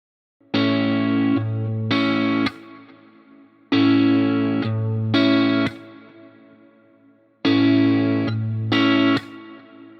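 Guitar played in a rhythmic style, the thumb striking the bass strings, three repeating phrases of strummed chords with brief gaps between them, clear and close with no talking.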